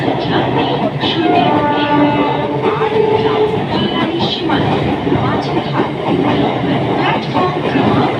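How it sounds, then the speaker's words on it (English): Local commuter train on the Sealdah line in India pulling into a station platform, continuous rumbling wheels and clattering carriages with brief metallic squeals, close and loud, with a public address announcement faintly underneath. "Majirhat local is arriving on platform number 5"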